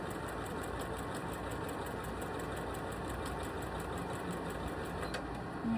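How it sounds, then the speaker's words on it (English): A sewing machine quilting fabric runs steadily and fairly loud, with a continuous mechanical whir and a rapid, even stitching rhythm throughout, and no talking. "I'm just quilting any old way."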